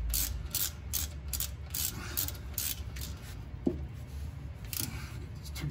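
Hand ratchet clicking in quick bursts while snugging bolts on the rear end of a 1981 Buick Grand National G-body, close and clear with a brief metallic knock midway.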